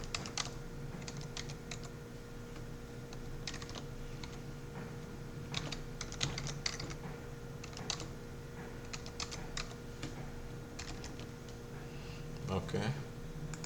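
Someone types a password on a computer keyboard, with irregular bursts of soft clicking keystrokes over a steady electronic hum, pausing between clusters of keys.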